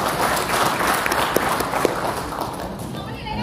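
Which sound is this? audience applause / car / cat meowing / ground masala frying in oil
audience applause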